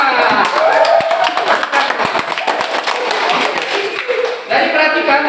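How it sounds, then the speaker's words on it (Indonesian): Classroom applause for a group's animal-themed montage artwork, a dense patter of claps from students that runs throughout, with voices mixed in. "Tepuk tangan."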